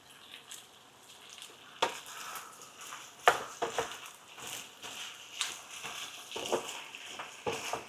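Sweet and sour sauce for pork ribs bubbles and sizzles as it reduces in a hot pan, a steady fizzing frying hiss broken by occasional louder spatters and scraping stirs, close and clear with no talking.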